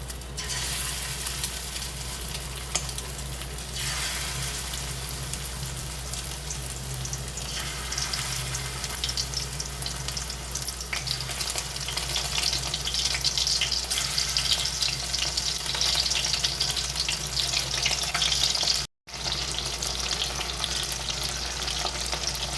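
Pieces of chicken fry in hot oil with a dense, steady sizzle and crackle that stays loud and close throughout, briefly cutting out for a moment near the end.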